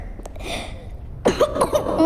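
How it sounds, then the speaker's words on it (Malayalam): Several harsh, abrupt coughs from a person who has a bad cough, loud and close, bunched together in the second half after a quieter stretch. "എനിക്ക് ഭയങ്കര ചുമയാണ്"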